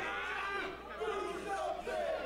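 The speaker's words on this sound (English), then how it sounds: "The crowd is thoroughly against crazy Frankie Arion" At an independent wrestling show, the crowd jeers loudly at a wrestler, a sustained mass of shouting and booing voices that rises and dips over a constant hum.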